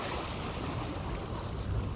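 Moderate sea waves wash over the edge of a reef, drawing water back with a steady churning rush; the surf is continuous and fairly loud throughout, with no voices.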